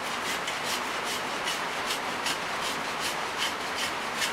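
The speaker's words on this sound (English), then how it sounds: "it's a scraper tool is what it really is. You can very quickly cut that arrowhead down to the right dimensions" Slotted scraper tool shaving down a wooden arrow shaft in a steady rasping rhythm of rapid, evenly spaced strokes, close up and continuous, with no voices.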